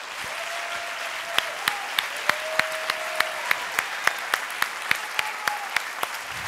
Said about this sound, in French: Applaudissements très forts, s'il vous plaît, pour Anthony Novo